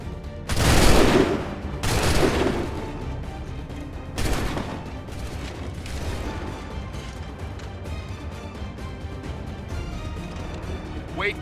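Musket volleys crack out in Assassin's Creed 3 on Xbox 360, two loud massed bursts close together near the start and another later, followed by scattered shots and lingering battle noise with voices.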